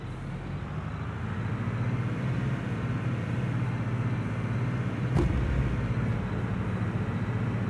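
A MAN truck engine in the video game Construction Simulator 3 drones steadily as the truck drives, a constant low rumble with one brief sharp click midway and no talk over it.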